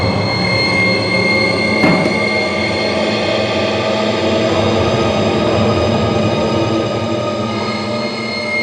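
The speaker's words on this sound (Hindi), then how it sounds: "ट्रेन के जाने की आवाज, ट्रेन के हॉर्न की आवाज" A train rumbles past at close range, a steady loud roar of wheels and engine with a brief sharp clatter near the start.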